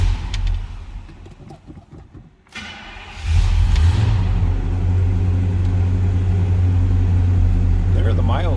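1967 Pontiac LeMans two-door hardtop engine cranking briefly, catching, and settling into a loud, steady idle rumble close by.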